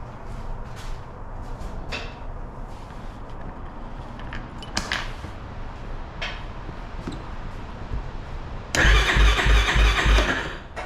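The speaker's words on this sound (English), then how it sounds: "Let's see if we have a crank." A 2009 Yamaha Raptor ATV engine cranks and catches, a rough rhythmic starter churn after several seconds of quiet workshop clatter and scattered knocks, loud and close, with no voices during the start.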